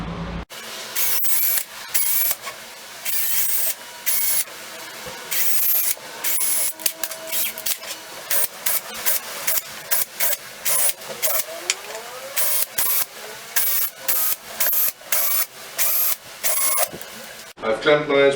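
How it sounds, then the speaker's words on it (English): A power drill whirs in many short bursts into a board, stopping and starting repeatedly, close and loud, with occasional quiet handling noises between runs. "So I'm gonna drill."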